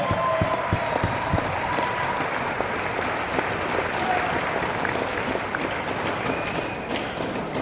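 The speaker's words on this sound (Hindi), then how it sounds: "हम चाहेंगे खड़े होकर एक शानदार ताली सर के लिए होनी चाहिए" A standing audience at a business seminar applauds a speaker, a full, continuous patter of many hands that stays steady and tapers slightly near the end.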